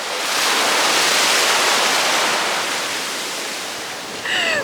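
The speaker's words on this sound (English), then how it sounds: "These waves are outrageous." Ocean waves crashing on a beach in Miami, a loud, dense roar of surf swelling and slowly easing, with a brief high squeal or voice-like sound near the end.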